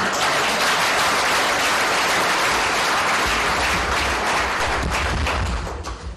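Sustained applause from a large crowd gathered for the First Lady Olive Lembe Kabila in Kinshasa, dense loud clapping that holds steady throughout and begins to taper off at the very end.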